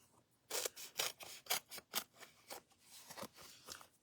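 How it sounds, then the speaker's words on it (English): Scissors snip through a thick foam adhesive sheet, cutting it into strips in a quick series of crisp, close cuts with short pauses between them. "So I just cut it into strips."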